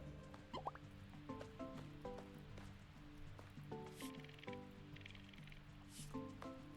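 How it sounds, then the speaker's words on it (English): Rainfall in the video game Roots of Pacha, soft steady patter and scattered drips under gentle melodic background music, faint and continuous. "Oh, good. Rain."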